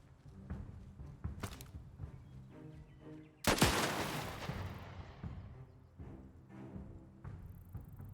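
Gunfire in the video game Last Train Home: several sharp shots crack out, one heavy blast near the middle trailing off, over faint footsteps and background noise, with no talk.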